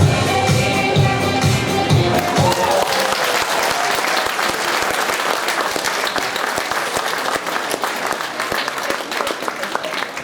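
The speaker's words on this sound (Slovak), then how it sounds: "Potlesk je zaslúžený, ale prosím, počkajte s ním až po poslednom skoku" Grandstand audience at a show-jumping grand prix clapping, a dense sustained wash of applause from many hands, loud and close throughout, with some crowd murmur at the start.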